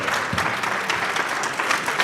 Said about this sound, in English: Will you give them both a round of applause?